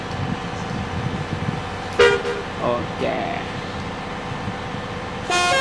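Telolet-style bus horn in the BUSSID bus simulator game, a couple of short melodic toots blaring over engine and road rumble, with someone talking over the gameplay.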